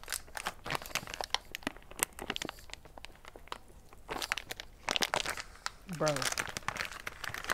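A crinkly plastic food package of udon noodles or mochi being wrestled open, irregular close crackles and crunches throughout, with a person talking over it.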